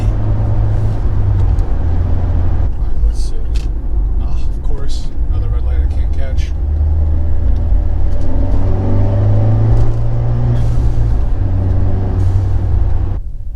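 A Fiat 124 Spider Abarth with a 1.4 liter engine and a camshaft issue burbles steadily at idle, a low continuous rumble heard from inside the car with people talking over it.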